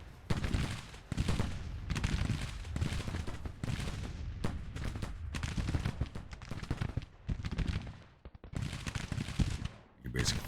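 Dense battlefield gunfire from muskets and revolving Colt pistols in the Civil War strategy game Grand Tactician, continuous overlapping volleys and cracks in rolling bursts, loud and near, with brief lulls.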